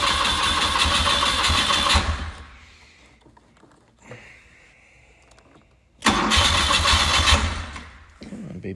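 A 1974 BMW R90S 900 motorcycle is cold-started indoors: a loud burst of engine running, a quiet lull with brief cranking, then the engine catches again and runs loud and rough.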